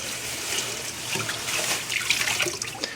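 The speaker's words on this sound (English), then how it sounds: "let's fill up more water" Steady rush of water pouring into a container, close and moderately loud, with gurgles and splashes shifting as it fills; no talking.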